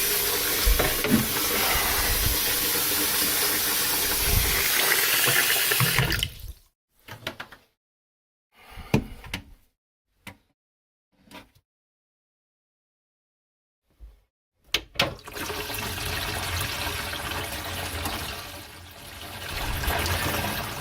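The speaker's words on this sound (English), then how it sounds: "I'll test the drain out with a good bit of water coming through here." Water rushes steadily through a bathroom sink drain, cuts off into near silence broken by a few drips and clunks, then pours strongly again.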